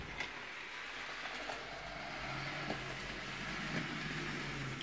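An N gauge model train runs on a small layout, with a faint, steady rolling hum and soft periodic clicks from the track over a low background hiss, no talk.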